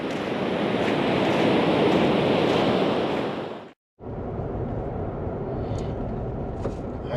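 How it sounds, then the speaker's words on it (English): Ocean surf on a beach in the Carolinas, heard as a steady, loud broadband wash of breaking waves with some wind noise, briefly cut off mid-way before resuming slightly softer. "I just wanted to say one last goodbye to the ocean by taking a nice long walk"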